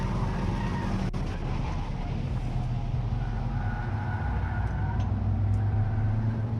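A Hyundai Veloster N drives on a race track, its engine a steady loud drone with road and wind roar throughout, building slightly toward the end, with no talking.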